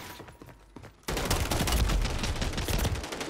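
Sustained automatic gunfire in Warzone bursts in suddenly and keeps rattling loud and dense for a couple of seconds after a quieter opening, with no voices over it.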